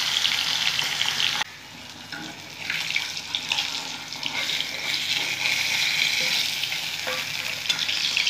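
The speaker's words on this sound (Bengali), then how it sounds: "করে সব মাছগুলো ভেজে নেবো।" Fish frying in mustard oil crackles and hisses steadily up close, with bubbling, watery spatter and occasional stirring over the continuous sizzle.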